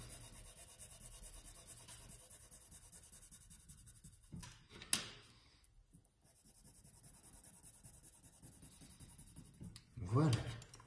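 Coloured pencil scratching across paper while colouring the corners of a paper triangle: soft, continuous rubbing strokes, briefly interrupted by a pause and a knock, with a voice speaking near the end.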